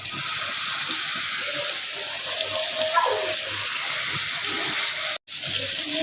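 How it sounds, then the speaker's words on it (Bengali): Water pours into a pan of spiced masala for a bottle gourd and prawn curry, a loud, continuous rushing gush close by with a brief cut-off near the end. "এবার জল দিয়ে দেবো তো একটু জলটা দিয়ে দিলাম"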